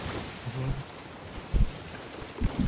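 Engine-like rumble of a ship moving over ocean waves in the video game Sea of Thieves, with splashing wave surges and wind noise, a few louder bursts of water near the end.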